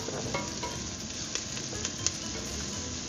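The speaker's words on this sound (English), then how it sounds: "I'm going to add my 4 cloves of garlic, which I peeled and diced. We're going to just cook that for like 30 seconds." Four peeled, diced garlic cloves frying in a pan give a steady, close sizzle, with a few small crackles and pops over the continuous hiss.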